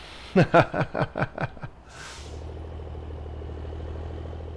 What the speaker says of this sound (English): a diesel engine can be like throaty and awesome sounding